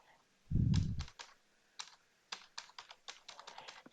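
Keys clack on a computer keyboard in quick uneven bursts, close and fairly quiet, after a short low thud near the start.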